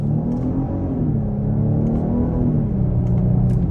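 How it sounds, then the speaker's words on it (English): A 2023 Genesis GV80 3.5TT accelerates under paddle-shift control, its twin-turbo engine note rising and dipping through gear changes as a steady, loud, close rumble with no talk. "we'll try out these paddle shifters on the gas"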